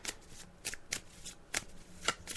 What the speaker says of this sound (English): as you can hear, I'm just shuffling the cards now.